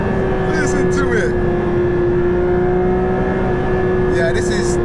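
Porsche 911 GT3 RS engine heard from inside the car while accelerating, a loud sustained droning note holding steady with voices breaking in over it at the start and the end.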